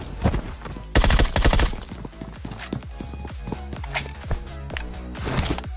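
Groza rifle fire in the game Free Fire comes as loud, rapid bursts of sharp shots, with a dense stretch of gunfire early on and scattered cracks and impacts after it.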